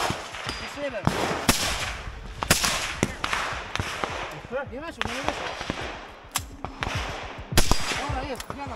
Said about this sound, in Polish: Strzały oddajemy z tej prowizorycznej platformy